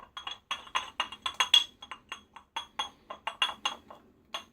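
A shaving brush clinks repeatedly against a glass bowl while lathering, quick close-up taps in an irregular rhythm, bright and quiet, with no talking.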